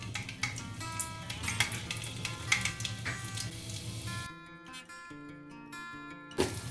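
Garlic cloves drop into two teaspoons of hot oil for tempering a tomato, mint and sesame chutney, giving a soft sizzle with a few light utensil clinks over a steady tonal background, with no voices.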